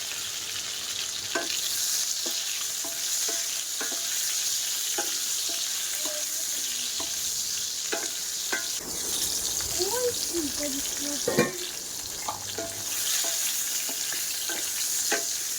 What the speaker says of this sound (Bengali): আলুটা ভালো করে ভাজা করে নেবো